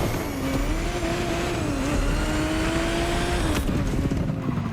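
A stock Ferrari engine in The Crew Motorfest hums steadily at a low idle-like drone with a rising whine, continuous throughout, fairly loud and close, with a brief shift near the end.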